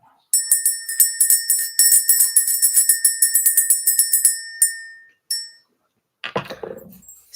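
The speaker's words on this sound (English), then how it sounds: "Let's go ahead and ring the bell." A bell rung over and over in quick, bright strikes for about four seconds, each ring overlapping the last with a shimmering, metallic tone, followed by a brief pause and some soft rustling noise.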